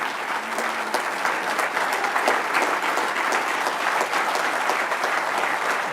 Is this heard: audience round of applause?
yes